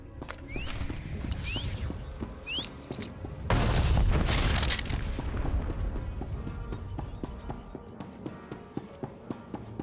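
A heavy explosion booms inside Star Wars: The Old Republic, a loud low rumble that hits suddenly and decays slowly, preceded by a few sharp mechanical clicks and beeps, with no talk over it.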